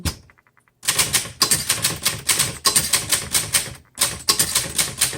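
Rapid mechanical keystrokes on a 1968 Adler Universal 20 desktop typewriter clatter in quick bursts, with brief pauses between runs, close and fairly loud with no talking.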